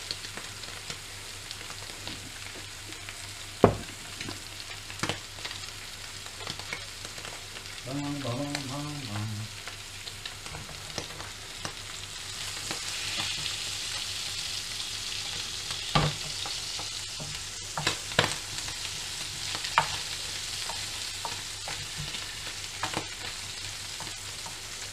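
Fish pan-frying in a hot pan makes a soft, continuous sizzle with scattered crackles and a few sharp knocks of utensils, the sizzle growing slightly busier in the second half, and no one speaks.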